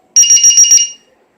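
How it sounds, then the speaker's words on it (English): An Integy LiPo voltage checker's warning buzzer gives a loud, close burst of about five rapid shrill beeps lasting under a second, then cuts to silence. "It's an Integy LiPo voltage checker and warning buzzer."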